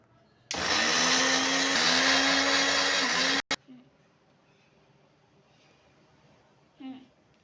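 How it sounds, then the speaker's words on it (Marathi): An electric kitchen mixer grinds washed curry leaves in its jar, a loud, steady whir that runs about three seconds and then cuts off, followed by quiet room noise and a faint clink. "कडीपत्त्याची पाने मिक्सरला लावून घ्यायची आहेत"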